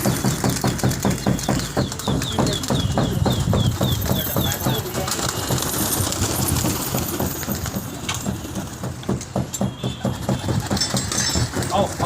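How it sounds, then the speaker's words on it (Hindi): Flock of about ninety fighter pigeons released from a rooftop loft in Okhla, Delhi, a busy flutter and chatter of birds over a steady engine-like hum, with people talking throughout. "कबूतर खुल गए।"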